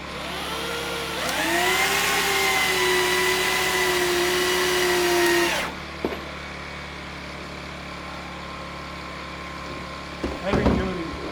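A power driver sinks heavy-duty 8-inch coated, weather-resistant timber lock screws with a nut drive head into a shelter frame, giving a loud, steady whining run that rises in pitch, stops abruptly, and is followed by a few short knocks.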